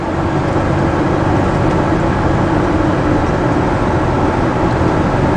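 A Ford Ranger 4x4 truck's engine idles in good running condition, a loud, steady, close-up rumble that holds unchanged throughout with no voices.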